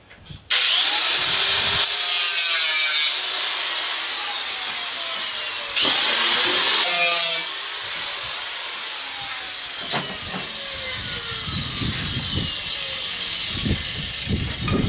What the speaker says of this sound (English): I'm gonna hit it with the grinder real quick